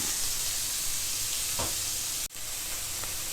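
Chopped onions and cumin sizzle steadily in a hot pan, a continuous bright hiss with a couple of soft scraping stirs and one brief sharp knock.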